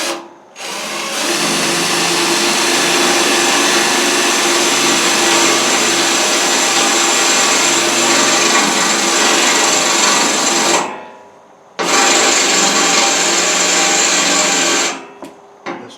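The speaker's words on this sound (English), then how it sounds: "see if we can drill another hole here for the thermostat" A power drill whines loudly and steadily for about ten seconds while drilling a hole in a diamond plate grill hood, stops briefly, then runs again for a few more seconds before cutting off.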